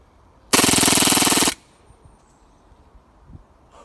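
A KWA VZ61 airsoft gun fires one loud, continuous full-auto burst of rapid clatter lasting about a second, then stops, leaving a quiet room with faint handling noises afterward.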